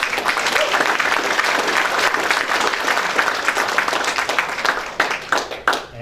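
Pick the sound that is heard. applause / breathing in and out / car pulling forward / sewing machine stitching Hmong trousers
applause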